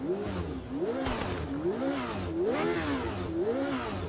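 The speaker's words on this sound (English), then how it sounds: "this sounds very similar to most of the other Formula Retro DFV engines that we've heard in AMS2 already" Formula Retro race car with a DFV V8 in the sim racing game Automobilista 2, revving up and down in repeated rising and falling sweeps, loud and close with no talking.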